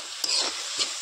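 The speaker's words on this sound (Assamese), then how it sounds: "এনেকৈ 20 মিনিটমান ভাজিব লাগিব" Grated coconut stir-frying in a pan for red coconut laru, a steady soft sizzle with a couple of scraping stirs, close and moderately loud, no voices.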